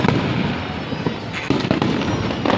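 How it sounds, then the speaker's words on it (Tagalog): Fireworks bursting over a packed outdoor crowd, a steady rolling barrage of loud crackling pops and booms with no gaps, close and dense throughout. "Fireworks."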